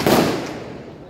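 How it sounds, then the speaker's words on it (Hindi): Firecrackers burst at a New Year celebration: one loud, close crack at the start, then a rumbling decay that fades over about a second, with no talk. "तो देखिए गाइस यहाँ पर अभी पटाखे फूट रहे।"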